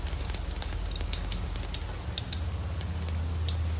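Cumin seeds and spices sizzle in hot oil for a Gujarati mixed chavana curry, producing a steady close crackling hiss with scattered sharp pops and a low hum underneath.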